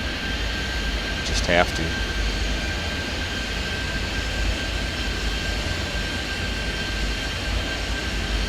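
Airliners taxi and take off in the airport-management video game Airport Madness 3D, a continuous engine drone and rumble with a brief rising whine, while someone talks over it.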